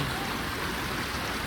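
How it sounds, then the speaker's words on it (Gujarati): A mountain stream flows in a constant, fairly loud rushing wash of water that does not change, with no talking. "પાણી મસ્ત જઈ રહ્યું છે અને એનો સાઉન્ડ"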